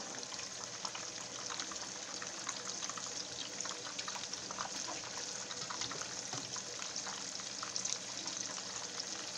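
Giant meatballs frying in hot grease in a pan, giving a steady, dense sizzle and crackle that holds evenly at close range throughout with no talk over it.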